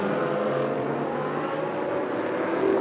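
GT race cars roaring together at the Spa circuit as they head toward La Source, a dense, steady engine drone held close and loud throughout.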